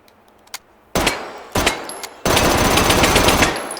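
A fast-firing gun in Call of Duty: Black Ops, two short loud bursts of rapid shots and then a longer sustained burst, with faint metallic clicks beforehand.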